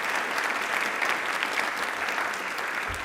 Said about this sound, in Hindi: एक बार सतीश सर के लिए तालियां प्लीज